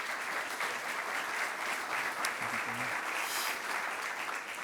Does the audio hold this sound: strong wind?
no